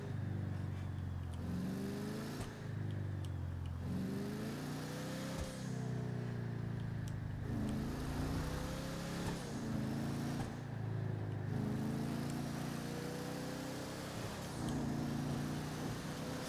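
Lowrider car in GTA 5 running through repeated rev cycles, its engine tone climbing and then dropping in a regular rhythm, moderately close and alone.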